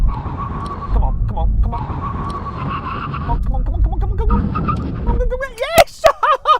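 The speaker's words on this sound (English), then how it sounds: "Now we have a brake test, 70 miles an hour. When we reach the line, full emergency stop." Toyota Supra MK4 making a full emergency stop from 70 mph in a brake test, engine roaring at speed before tyres squeal and skid in sharp wavering bursts as it halts; excited voices carry over the noise.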